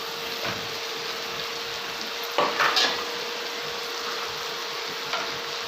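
Spice powders sizzle in hot oil for a tempering in an aloo keema dish, a steady bright frying hiss with a few brief scraping stirs near the middle, close and alone without talk.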